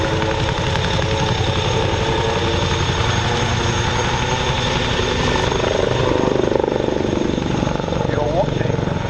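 Royal Navy Wildcat helicopter flying, its steady rotor and engine roar filling the air loudly and continuously, with voices talking over it.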